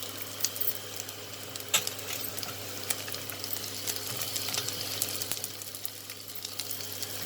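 Onions and carrots fry in a pan, a steady close sizzle and crackle with a low constant hum beneath and a few sharp clicks and knocks scattered through.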